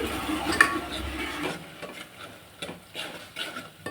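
A spoon stirs ground masala mixed with water in a pan, making scattered scraping and clinking strokes over a faint sizzle, close and fairly quiet.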